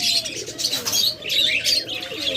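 Caged pet birds for sale call in a steady stream of close, bright chirps and soft coos, overlapping continuously with no pauses and no talking.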